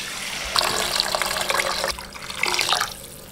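Water poured into a pan of thick, reduced tamarind rice paste (puliyodharai), a steady splashing pour in two bursts close by, with no talking.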